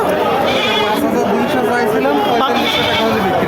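Goats bleat amid a busy livestock goat market in Barobazar, with crowd chatter and voices talking throughout, the calls loud and close over constant background noise.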